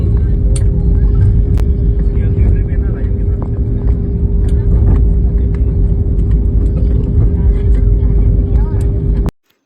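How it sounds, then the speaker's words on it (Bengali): A passenger plane landing at Dum Dum airport in Kolkata, heard as a loud, continuous low rumble with a steady hum on top that carries on unbroken and then cuts off abruptly at the end. "শেষমেশ আমরা কলকাতার দমদম বিমানবন্দরে নেমে পড়েছি"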